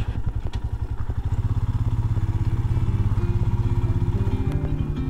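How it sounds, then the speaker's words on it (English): Royal Enfield Himalayan motorcycle on an alpine road trip, its engine thumping in a rapid steady pulse with loud mechanical clatter and an odd chain noise, close and continuous. "Bossy really is clattering about. There's a very weird sound coming from the chain as well."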